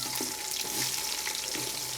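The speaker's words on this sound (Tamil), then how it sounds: "இதெல்லாம் நல்லா ஃப்ரை ஆனதும் நம்ம கட் பண்ணி வச்சுருக்க வெங்காயத்தை சேர்த்துக்கலாம்" Spices frying in hot oil in a pan for a vegetable biryani, a steady dense sizzle with faint stirring clinks, close and continuous with no talking.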